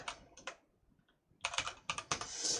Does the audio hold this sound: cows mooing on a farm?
no